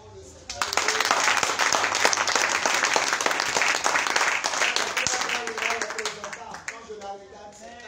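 A church congregation breaks into loud, sustained applause and clapping to acclaim the Lord, a dense wall of hands filling the room for several seconds before thinning out, with voices mixed in.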